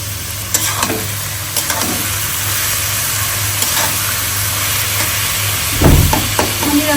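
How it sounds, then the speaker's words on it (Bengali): Paratha frying in a pan with a steady, close sizzle under a low hum, with occasional louder crackles and stirring scrapes near the end. "পরোটা বানানো হচ্ছে"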